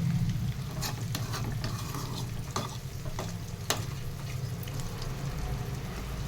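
Fish and egg fry in oil in a village-style pan, a close, continuous bubbling sizzle with a low rumble underneath and a few sharp clicks and pops, steady and fairly loud with no voices.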